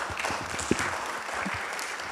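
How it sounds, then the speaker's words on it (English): Applause at the Athens Democracy Forum in a music theatre, a few seconds of scattered clapping from the audience, moderately loud and fairly even throughout. "Yes, some round of applause."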